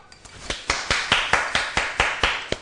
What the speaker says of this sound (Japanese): 拍手が少ない。